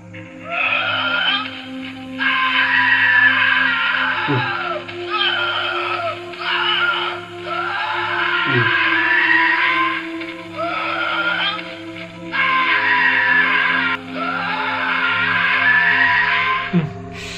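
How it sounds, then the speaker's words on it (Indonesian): SCP-096 scream sample: a loud, harsh, sustained shrieking wail repeated in long bursts of a couple of seconds each, separated by brief gaps with low rumbling underneath, no speech. "Di sini ada sampel audio suaranya ini SCP-096."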